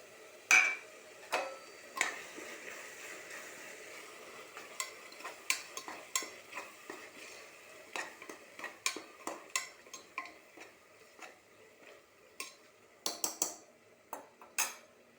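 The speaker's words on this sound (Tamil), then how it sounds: "இப்போ இஞ்சி பூண்டு பேஸ்ட்டு இதோட கலந்துக்கிறேன்." A spoon stirs ginger garlic paste into fried tomatoes in a metal pan, making a quiet run of close scrapes and sharp clinks against the pan at an uneven rhythm, with no voices.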